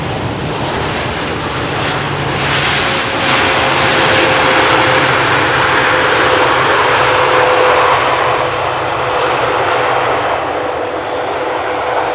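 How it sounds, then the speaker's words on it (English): A three-year-old Boeing 787-10 Dreamliner lands at Amsterdam Schiphol after a long-haul flight from Panama City, its jet roar loud and steady throughout with a faint whine riding on top, swelling slightly mid-pass. "the 787-10 Dreamliner, coming in from Panama City, touching down after 9 hours and 6 minutes of flight."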